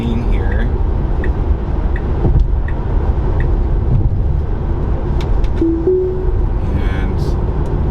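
A 2021 Tesla Model 3 Standard Range Plus cruising on a highway and moving over a lane, giving a steady road and tire hum inside the cabin with a few faint clicks, with no talk heard.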